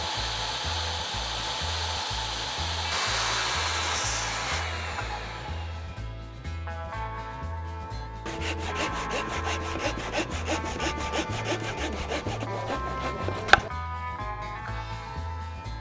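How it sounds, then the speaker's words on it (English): A circular skill saw cuts through wood for an anvil restoration stand, then a hand saw takes over with steady rhythmic back-and-forth strokes, close and alone without talk. "I'm gonna cut it by hand with a skill saw and then finish it off with a hand saw."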